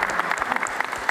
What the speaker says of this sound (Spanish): Aplausos para Draco.